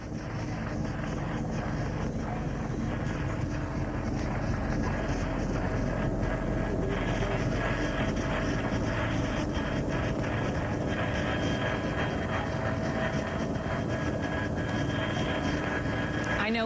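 A steady, broadband NYPD helicopter roar drones without pause, heavy and continuous overhead during the 9/11 rooftop rescue, with wind buffeting and no clear talk.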